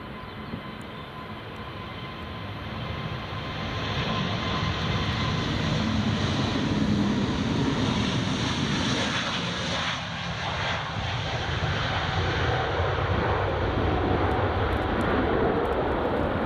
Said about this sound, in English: Aegean Airlines A320neo is departing now.